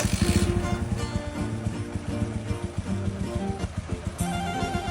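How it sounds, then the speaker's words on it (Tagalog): A Bajaj CT125 motorcycle engine idles quietly and steadily after cleaning, a low even rhythmic putter with a faint hiss on top, close and continuous throughout. "narinig nyo naman na sumobrang tahimik talaga itong makina niya."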